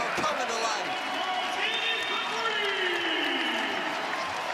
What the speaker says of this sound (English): Home crowd coming to life.